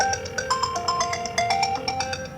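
A phone ringtone plays nearby: a bright, repeating electronic melody of quick pulsed notes that runs steadily and fairly loud, with no talking over it.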